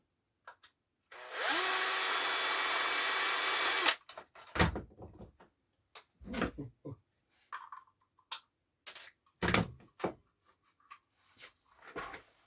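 A power screwdriver runs in one steady whirring burst of about three seconds while salvaged objects are taken apart, followed by clicks, handling noises and scattered speech.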